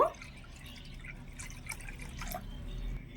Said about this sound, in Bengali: একটা বাটির মধ্যে কিছুটা মতন একটু জল নিয়ে নেব